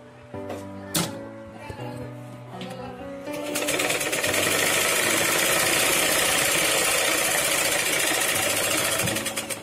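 A sewing machine stitching a folded fabric piece, starting with a few short bursts and then settling into a loud, continuous rapid whirr for the latter half.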